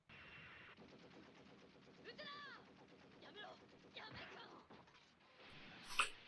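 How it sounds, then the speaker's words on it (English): Bursts of rapid gunfire and scattered shots under talk and game audio, with a louder crack near the end. "now stop the gunfire"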